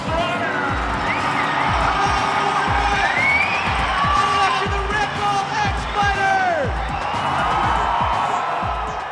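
A stadium crowd of more than 20,000 fans cheering at the X Fighters 2008 freestyle motocross event, a steady roar with whoops, under a commentator talking throughout.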